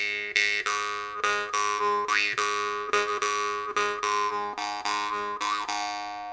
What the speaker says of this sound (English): So this one is quite small and neat, but has nice strong clear sound